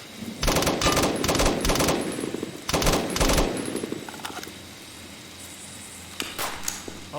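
Gunfire and sniper shots in the military shooter game BRM 5: two loud, dense bursts of rapid shots, then quieter scattered distant shots and faint background rumble, with no talking.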